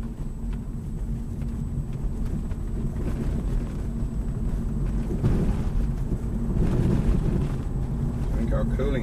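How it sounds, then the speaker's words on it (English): An electric-converted BMW E36's cooling fan runs during a test drive, a steady low whir blended into continuous rumbling road and cabin noise, with people talking over it. "Yeah, you can hear the cooling fan."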